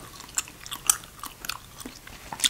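Close-up gum chewing at the microphone: moist snaps and bites pop out every half second or so over a quiet background, with no voice.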